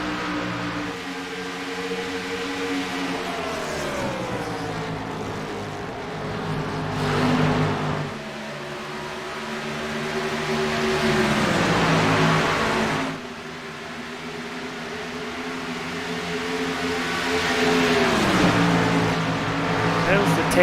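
Race car engines at Texas in the iRacing sim, a steady pack of harmonic engine drones rising and falling in pitch as cars pass, loud and continuous, with commentary talk likely under it.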